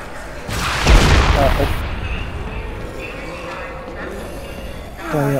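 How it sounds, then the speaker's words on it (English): In the video game Dead Rising 3, a loud burst of explosions booms up close, then crackles and fades into rumbling debris while players talk over the game audio. "Explosions!"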